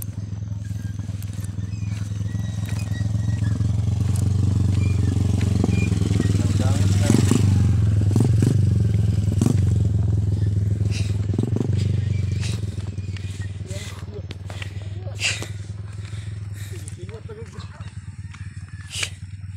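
A motorcycle engine passing on a rural road in Davao del Sur, its rumble swelling to a close, loud peak in the middle and then fading away, with scattered clatter and people talking.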